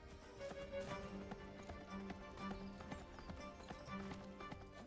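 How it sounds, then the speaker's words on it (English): Quick rhythmic hoofbeats from the pig mount Hawk running in the video game Seven Deadly Sins: Origin, a steady galloping patter close up and fairly faint over a droning musical background. "Charging into battle on our pig friend will never get old."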